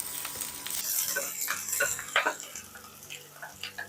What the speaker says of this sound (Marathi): तेल बऱ्यापैकी गरम झालेलं आहे तर याच्यात सगळ्यात आधी आपल्याला कांदा घालायचा आहे